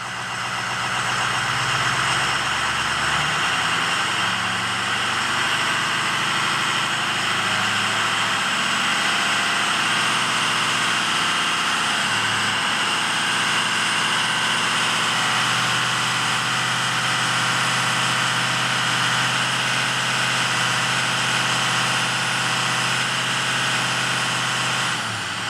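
A cold car engine idles steadily and loudly for the whole stretch, a continuous even drone with a faint rhythmic tick from a fuel system suspected of compression trouble, and no voices over it.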